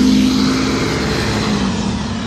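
A bus pulls away from a stop, its engine giving a loud, steady low drone with a faint whine that holds from start to finish, close by and with no other sounds.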